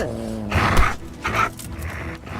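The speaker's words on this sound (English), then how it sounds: "The dog is doing rather well." A dog in a medieval combat video game growls and snarls in a few close, rough bursts over low background game sound.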